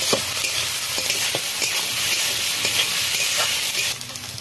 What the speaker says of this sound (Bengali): মশলাগুলো হালকা ভাজা হয়ে গেছে,